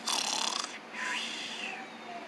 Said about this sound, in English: The man is snoring!